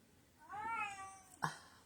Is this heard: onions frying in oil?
no